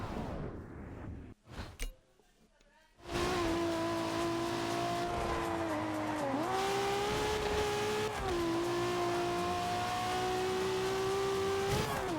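Race car engines in a Forza Horizon 2 rival race roar loud and steady after a brief quieter lead-in, revving with a sustained tone that dips and climbs with gear changes, alongside faint tire noise and no talking.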